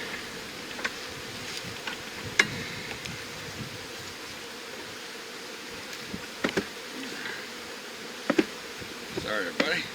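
A steady insect drone of many honey bees buzzing close by at a hive, with faint rustles and occasional small knocks rising above the hum throughout.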